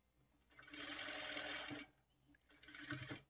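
A sewing machine runs while stitching a blouse lining, humming steadily in one long burst, pausing briefly, then starting again, close and fairly quiet.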